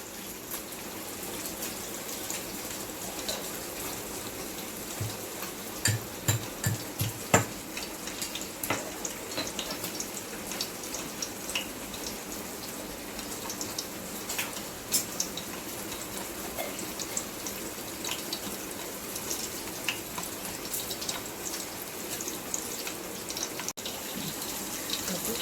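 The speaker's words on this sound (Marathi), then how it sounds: "आता आपला लसूण चांगला फ्राय झालेला आहे, फ्राय होतोय" Garlic frying in hot oil as a tempering for a Konkani crab curry, a continuous close crackling sizzle with scattered sharp pops and spits throughout, no talking.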